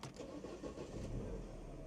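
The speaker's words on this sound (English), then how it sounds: "Let's start it up and see what it sounds like" 2010 Mini automatic car engine starting, a short crank followed by a steady idle, close and fairly quiet.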